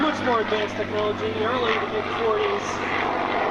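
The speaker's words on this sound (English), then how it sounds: "here comes the P-51" A World War II-era P-51 propeller fighter drones steadily at an airshow, a continuous engine hum under an announcer's loud commentary throughout.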